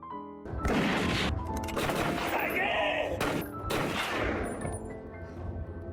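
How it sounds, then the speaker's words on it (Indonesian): Several sharp gunshots crack out in quick succession amid crashing impacts, loud and close, with voices mixed into the commotion. "Komandan Ladusing melepaskan tembakan ke arah mobil yang dikendarai Lee"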